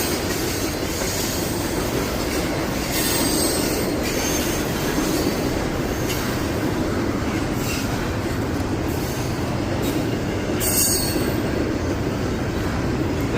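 A graffiti-covered freight train rolls steadily past up close, a continuous loud rumble of wheels on rails with high metallic squeals cutting in now and then.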